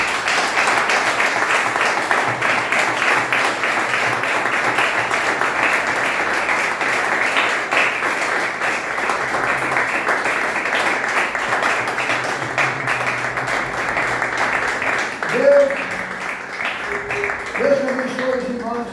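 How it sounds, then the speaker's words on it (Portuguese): A church congregation gives sustained applause, dense clapping that continues for a long stretch, with a voice briefly rising near the end. "Vamos dar uma salva de palmas ao Senhor."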